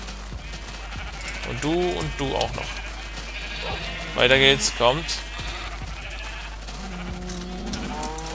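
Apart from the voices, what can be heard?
sheep bleating in the video game Minecraft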